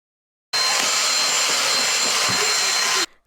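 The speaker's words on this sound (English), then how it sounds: "So I'm now giving the whole shelf and the cupboard a hoover." A vacuum cleaner hoovers a kitchen cupboard shelf, running as a loud, steady whine and roar that switches on abruptly and cuts off about two and a half seconds later, with small knocks as the nozzle bumps the shelf.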